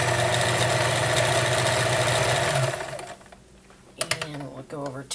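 A vintage 1941 Kenmore convertible free-arm sewing machine stitches with a loud, steady motor whir for about three seconds, then stops, leaving faint mechanical clicks and rattles close by.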